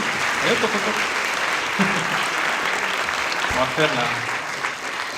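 Cinema audience at a film premiere applauds steadily for the co-writer, a dense wash of clapping throughout, with a voice and a few other voices speaking briefly over it.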